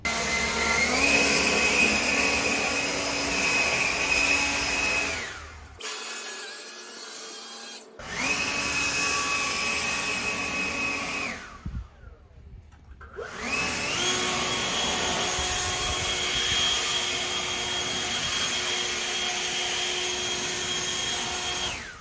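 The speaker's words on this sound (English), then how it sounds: "So I'm going to blow it off the sidewalk and then blow all the sitting grass over the sidewalk so you can see how much airflow there is." A Greenworks 60V cordless leaf blower (130 mph, 610 cfm) blows grass off a sidewalk outdoors, a loud steady whining roar that cuts out twice briefly and then resumes at full power.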